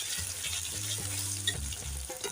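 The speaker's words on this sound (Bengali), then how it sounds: "পনিরটা দিয়ে দিয়েছি, এবার ভালো করে একটু লাল করে ভেজে নেব" Paneer pieces frying in hot mustard oil: a constant crackling sizzle near the microphone, with a low steady hum underneath and a few louder pops, no one speaking.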